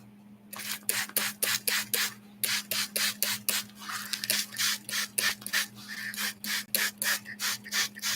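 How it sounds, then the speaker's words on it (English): Hand spray bottle misting water onto freshly potted, newly rooted plant cuttings indoors, a rapid run of sharp, close spritzes in quick bursts with short pauses, over a steady low hum. "I spray it a bit."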